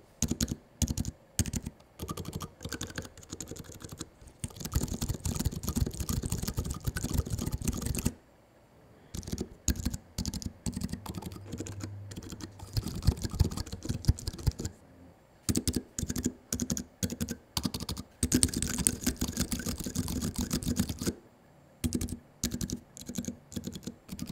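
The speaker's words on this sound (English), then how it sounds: "give you a small sound test of all the different build variations I can make with the components I have on hand" Typing on a Sol 3 mechanical keyboard with Boba U4 switches: dense, quick bursts of muted keystrokes in close, quiet bursts separated by short pauses, with occasional heavier spacebar-like thocks.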